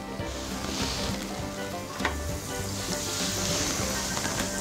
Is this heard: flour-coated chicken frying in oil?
yes